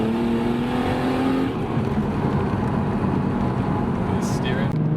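A Nissan R32 GTR with its RB26DET engine drives on a road, a loud steady engine drone filling the clip with a faint higher flutter-like chirp near the end; no clearly separate turbo flutter stands out.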